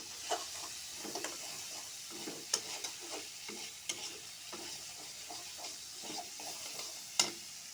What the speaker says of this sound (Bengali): এখন আলু ভালোভাবে কষিয়ে নেব